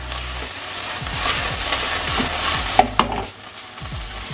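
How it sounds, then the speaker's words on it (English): Chicken stir-frying with garlic, ginger, spring onion whites and chili in a hot pan, with a steady loud sizzle and repeated scraping strokes of a utensil stirring. Two sharp knocks near the end, then the sizzle continues more quietly. "Give it a good stir."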